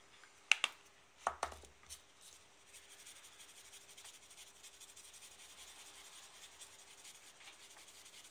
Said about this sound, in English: And now we're going to apply two more dry brush coats. So get back in there again with the leadbelcher.